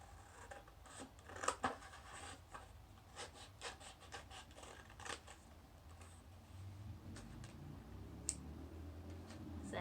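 Scissors snipping through paper to cut out a trapezoid shape in a classroom lesson, a series of close, crisp cuts and rustles, busiest early on and then thinning out over a low background hum.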